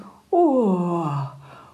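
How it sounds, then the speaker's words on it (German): A voiced, drawn-out yawn for a little crowned frog in a children's fairy-tale audio drama, rising then sliding down in pitch for about a second, close and clear on its own. "gähnt"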